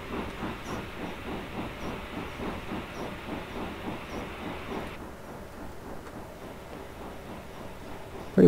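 Steam emitters on a rotary snow plow in Train Simulator Classic, a steady loud hiss running over rhythmic rail clickety-clack that thins out partway through, with no talk.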